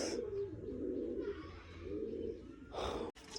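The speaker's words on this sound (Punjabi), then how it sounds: "ਲਾ ਲਿਆ ਆਪਾਂ ਸਾਰੇ ਕਬੂਤਰ ਥੱਲੇ" Soft, low pigeon cooing rumbles steadily up close, with a breathy rush of noise near the end.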